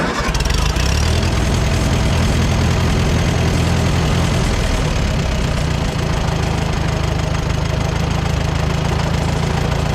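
An old, long-abandoned Co-op E3 tractor engine fires up and settles into a loud, close, steady idle with a rough knocking chug that runs without a break.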